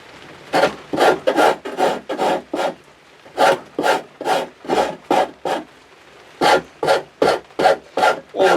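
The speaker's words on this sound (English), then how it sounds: "I've got 2 parallel edges there I'm filing" Rhythmic bursts of a rasp filing a wooden guitar neck during carving, close and loud, in three groups of steady back-and-forth strokes with brief pauses between.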